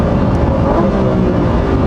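A Lamborghini Huracán STO on a race track gives a steady, loud engine roar with no sharp changes, heard close throughout.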